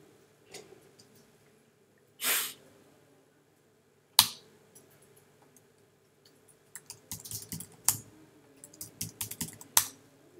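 Keystrokes on a computer keyboard as a password is typed at a Linux terminal during a class, with a few isolated taps early on, then a quicker cluster of clicks near the end, close and clear.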